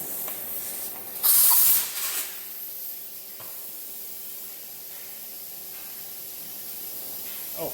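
An air-powered fuel evacuator working on a carbureted Ford F350 gives a loud burst of spraying air, then settles into a steady, lower hiss that runs on alone.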